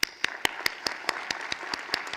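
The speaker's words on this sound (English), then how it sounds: "let's give these folks a round of applause" Applause from an audience at an annual meeting: a sparse, fairly even series of distinct claps, roughly four or five per second, moderately close and alone with no talk over them.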